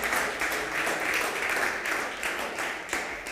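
A church congregation claps loudly and steadily throughout a worship service, dense and sustained with brief swells and no voices over it.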